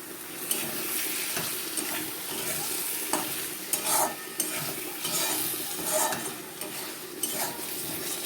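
Whole pointed gourds (potol) fry in a spiced curry base, giving a soft sizzle under repeated scraping and clinking stirring strokes at an uneven rhythm, with no speech.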